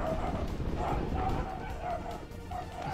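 A dog barks repeatedly in the Tokimeki Memorial 2 video game, a rhythmic series of yapping bow-wows with slight whimpering tones, fairly loud and continuous.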